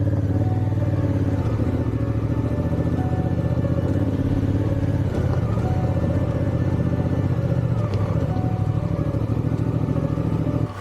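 A fully loaded Africa motorcycle climbs a rough mountain road, its engine droning steadily and close with a constant rumble and faint clatter from the bike throughout.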